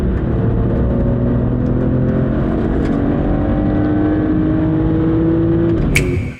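A tuned BMW E46 330i with its M54 inline-six engine holds a loud, steady high-rpm rev and then cuts off abruptly at the end.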